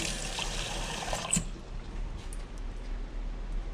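Warm water is poured into a pot for blueberry syrup, the sugar already heating on low, making a soft liquid trickle that is strongest in the opening second and a half, then fades to a quiet dribble.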